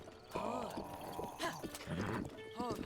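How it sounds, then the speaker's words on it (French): Horse in the video game Zelda Breath of the Wild, with clip-clop hooves and a brief whinny close up, mixed with game sounds and tones. "ça pour commencer, c'est un bon cheval. Il a des bonnes stats."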